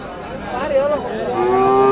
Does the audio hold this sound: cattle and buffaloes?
yes